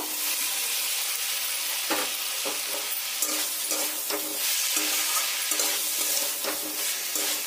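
Fried potatoes stirred into a spiced banana stem curry in a hot pan, with a steady broad sizzle and repeated scraping strokes of the spoon at irregular intervals, close and alone.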